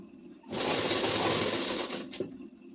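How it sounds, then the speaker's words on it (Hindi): A sewing machine stitching ladies suit fabric runs in a steady, loud whirring burst for about one and a half seconds, then slows and stops with a brief clack. "तभी सिलाई चलाएंगे"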